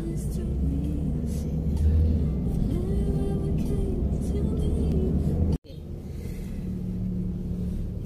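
Steady road traffic rumbles around a moving vehicle on the road to Sibonga, Cebu, with engines droning close and continuous and a brief dropout partway through.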